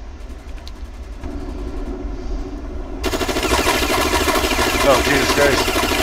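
An AI-manned tower in WWII Online opens up with a machine gun, loud, rapid sustained bursts that start partway through and rattle on over engine rumble while someone talks.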